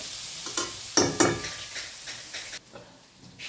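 Sautéing in a pan for chicken curry. A spatula scrapes and stirs in quick strokes over a loud sizzle, and the sound drops away sharply near the end.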